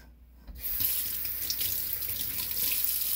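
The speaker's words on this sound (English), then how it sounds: "So I wash my hands" Water running from a kitchen tap while hands are washed: a short quiet pause, then a sudden steady hiss of flowing water into a sink that continues to the end.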